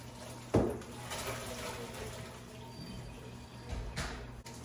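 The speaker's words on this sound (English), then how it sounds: "Drain it. We want as much water to get out of there as possible" Water from cooked potatoes pours off and drains into a kitchen sink, giving a steady low rushing splash with a sharper splash near the start, fairly quiet and heard alone.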